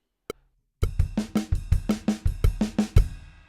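Drum fill in triplets on ride cymbal, snare and bass drum, played as a regular run of crisp, close strikes after a single opening hit and a short pause.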